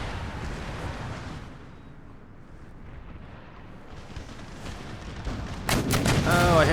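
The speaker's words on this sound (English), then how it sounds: "So, organ guns. Let's open fire" Organ guns opening fire in Empire: Total War, a loud burst of rapid gunfire crackling out near the end after a stretch of low battlefield rumble.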